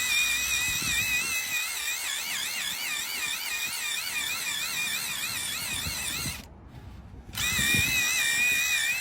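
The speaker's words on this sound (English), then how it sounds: "I'm then going to grab my drill brush once again" A power drill fitted with a brush scrubs a car mat, whirring steadily with a warbling, wavering whine, cutting out briefly near the end before starting up again, close and continuous.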